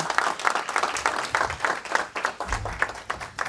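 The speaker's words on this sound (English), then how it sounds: "Please, let's give her another round of applause." Applause at a leadership masterclass, a moderately sized audience clapping in uneven, pulsing bursts, somewhat distant and quieter, with a low murmur underneath.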